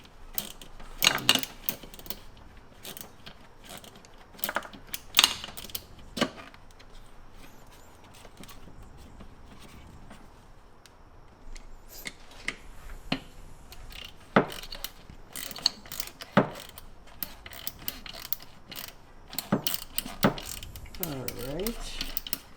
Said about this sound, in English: It's creating new threads in a plastic piece.